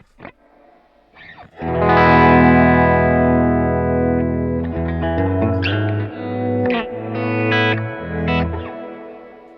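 Distorted electric guitar through a Quad Cortex hybrid pedalboard, a long sustained chord swelling with chorus and reverb, then a run of shorter choppy notes.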